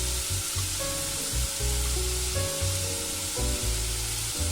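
Chili powder and turmeric sizzle in hot oil in a frying pan for a coconut-ground dried fish and raw plantain curry, a steady close hiss with faint crackles and no talking.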